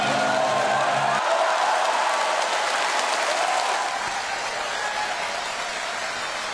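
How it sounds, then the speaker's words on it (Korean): An audience at a political support event applauds to welcome the support committee chair, dense clapping that starts loud and eases slightly toward the end, with no speech over it. "조정대 후원회장님을 큰 박수로 맞아주시면 감사합니다"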